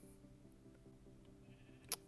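A cow in the Minecraft video game gives a low, drawn-out moo that pulses quietly across two seconds, faint and alone, with a brief sharp click near the end.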